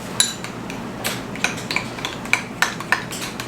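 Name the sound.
mixing ketchup and brown sugar meatloaf glaze in a dish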